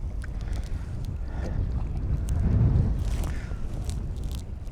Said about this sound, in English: that wind's getting up. It's full on wind against tide